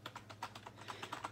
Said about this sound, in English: when I type, it's pretty loud